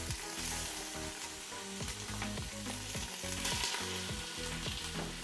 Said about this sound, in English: We're just gonna sear the outside of them.